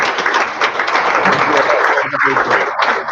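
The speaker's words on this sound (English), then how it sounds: "a big applause from all of us in Toronto" Dense, steady applause from an audience in Toronto, loud and sustained across the whole stretch, with a faint voice surfacing briefly near the end.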